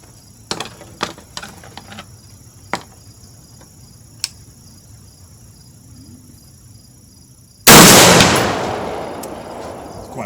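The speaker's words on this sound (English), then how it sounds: "We're going to shoot at that center dot." A single gunshot fired at a 50-yard target while zeroing a Holosun HE503CU-GR Elite sight on a range: one sharp, loud blast that fades out after several seconds of quiet outdoor ambience with scattered small ticks.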